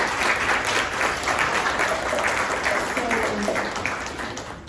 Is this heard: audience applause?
yes